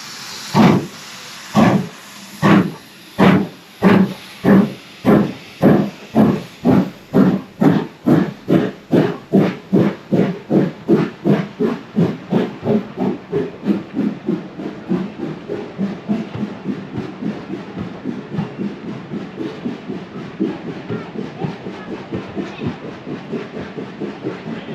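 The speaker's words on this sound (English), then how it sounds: "Just wanted to get a decent shot of that train before it sets off." A steam locomotive on the Worth Valley Steam Railway at Haworth sets off, its loud chuffs starting slow and evenly spaced, then quickening into a rapid rhythm that blends into a steady hiss as the train pulls away.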